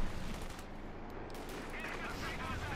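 Scattered rifle fire from Grenadier infantry in a Company of Heroes 2 battle, a dense wash of faint distant shots and rumble under the game's ambient battle noise.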